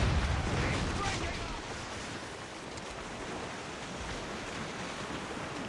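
Cannon fire from sailing warships in Assassin's Creed Rogue, booming as a loud, dense barrage that settles into a sustained roar of smoke, surf and wind, with shouting over the top.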